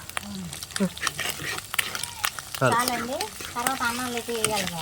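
Rice and eggs sizzle in a pan as fried rice is cooked at home. The frying and stirring stay moderately loud and close, running under ongoing conversation.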